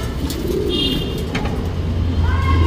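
A pigeon coos close by, its low throaty calls running continuously over a brief stretch, with faint chirps from other birds in the background.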